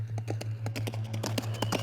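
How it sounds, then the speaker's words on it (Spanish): A black horse gallops, its hoofbeats landing in quick, regular clusters over a low steady hum, clear and fairly close with no other sounds. "ensilló su caballo negro y salió al galope"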